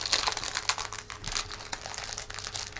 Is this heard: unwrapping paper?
yes